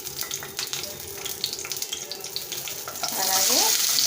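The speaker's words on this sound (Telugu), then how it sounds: "ఒక 3 స్పూన్స్ ఆయిల్ వేసుకోండి. ఇందులోకి పచ్చిమిర్చి," Green chillies sizzle in about three spoons of hot oil in a pan while cooking cucumber chutney, with a steady crackle, scattered pops and a louder hiss swelling near the end.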